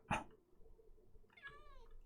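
A Minecraft cat gives a single clear, rising-then-falling meow near the end, preceded by a brief soft thump, over a quiet background.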